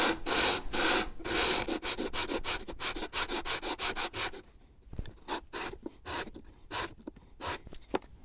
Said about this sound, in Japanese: サドルを少しだけ削ってあげます